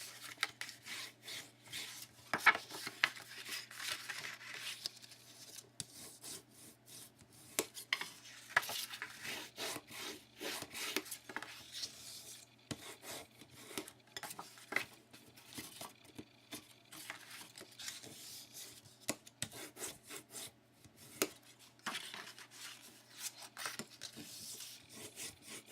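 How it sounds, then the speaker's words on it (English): Paper being folded along score lines and burnished flat, a steady dry rubbing and scraping that comes in repeated strokes, fairly faint and close, with no talking. "We are going to fold and burnish all of our score lines."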